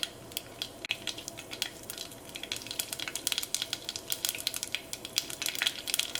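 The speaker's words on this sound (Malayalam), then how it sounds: "ഇനി ചൂടായ ഓയിലിലേക്ക് കടുക് ചേർക്കുക." Mustard seeds frying and popping in hot oil for vermicelli upma, a dense run of sharp crackles and spits over a steady sizzle, close and fairly loud, with no voices.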